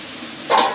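Pumpkin pieces frying in a pan, added after the scallops were seasoned with salt and pepper, give a sudden burst of sizzling that rises near the end and continues close and fairly loud, with no one talking.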